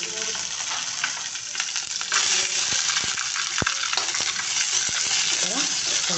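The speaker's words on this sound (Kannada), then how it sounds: "ಸ್ವಲ್ಪ ಚೆನ್ನಾಗಿ ಫ್ರೈ ಮಾಡ್ಕೋಬೇಕು" Chopped ingredients frying in a spoonful of hot oil for chutney crackle and sizzle continuously, with sharp metal clinks of a spoon or pan scraping through, close up and without talk.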